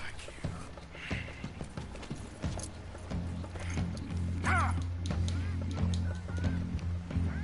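Hooves of a Hungarian Half-bred horse in the video game Red Dead Redemption 2, a steady clip-clop under honking geese and other farm fowl, with someone talking over them.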